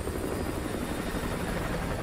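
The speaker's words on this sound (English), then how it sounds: "Enemy helo, get down." An enemy helicopter in a military video game drones with a continuous loud thumping rotor, close and steady throughout, with no voices over it.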